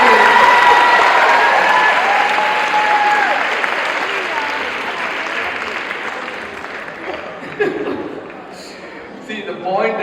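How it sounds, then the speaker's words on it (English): An audience at a lively talk by a doctor gives a loud round of applause, dense clapping that starts strong and slowly thins out, with scattered voices and a few louder claps near the end. "Super, let's give a big round of applause"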